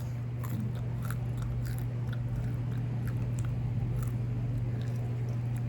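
Someone bites into and chews food, producing a run of crisp close crunches and smacking bites over a steady low electrical hum.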